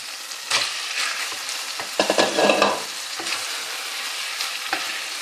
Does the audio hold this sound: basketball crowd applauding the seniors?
no